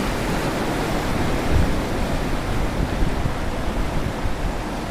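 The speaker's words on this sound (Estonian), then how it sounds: "Hästi mõnus lainte loksumine on" Sea waves lapping steadily against the Tallinn cruise promenade in Estonia, a continuous broadband wash of water with soft surges, close and even, with no voices.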